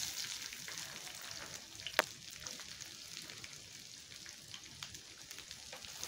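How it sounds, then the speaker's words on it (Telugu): Finely chopped onions fry in peanut oil for an aloo masala kurma, giving a soft, steady sizzle with faint crackles and one brief sharp tick, quiet and close, with no talking. "ఇందులో ఇప్పుడు మనం చిన్నగా కట్ చేసి పెట్టుకున్న ఆనియన్స్ వేసుకుందాం"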